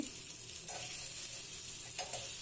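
Noodle pakoras with capsicum, onion, tomato and cauliflower sizzle steadily in hot oil as they are flipped in the pan, a continuous frying hiss with a couple of soft scraping turns, no talk.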